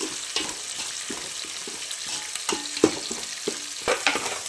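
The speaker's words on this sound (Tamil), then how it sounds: "இங்கேயும் நல்லா வெங்காயம் பச்சை மிளகாயெல்லாம் வதங்கிட்டு இருக்கு" Sliced onions and green chilies fry in hot oil for a fish curry, with a steady sizzle and sharp clinks and scrapes of a ladle stirring against the pan, near and alone.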